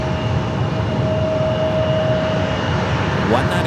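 A United 777 Heavy's jet engines roar steadily on departure from San Francisco airport, bound for Munich, a loud continuous rumble with a high whine running through it.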